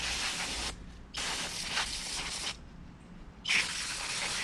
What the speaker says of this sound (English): And we'll take some brake clean. And we're going to clean off this diaphragm, brake fluid diaphragm,